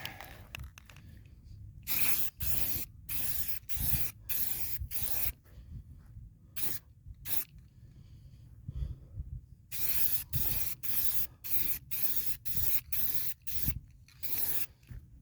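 Aerosol spray paint laying a first coat on 1983 GMC tailgate trim: repeated short hissing bursts in a steady rhythm, close and fairly quiet, with brief pauses between passes.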